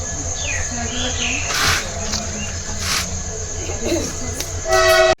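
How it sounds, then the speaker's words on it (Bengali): An express train runs steadily in the dark, its constant rumble and wheel hum filling the space from inside a carriage, with brief rushing swells and a short horn-like tone near the end. "এত সুন্দর আমরা একটা ট্রেন পাইছি, এক্সপ্রেস ট্রেনের মতন"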